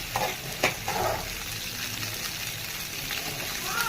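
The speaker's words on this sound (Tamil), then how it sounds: "ஒரு பச்சை மிளகாயை வதக்கிட்டு" Green chili sautés in a hot pan for mint chutney, a steady crackling sizzle broken by a few sharp scrapes and stirs of a spoon against the pan, close and fairly loud.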